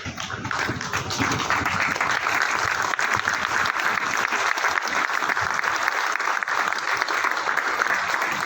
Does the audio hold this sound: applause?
yes